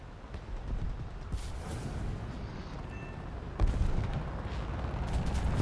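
A MiG-15 in an aerial combat video game fires rockets at a light tank, giving muffled booming blasts with a sharp loud impact partway through over a steady engine rumble.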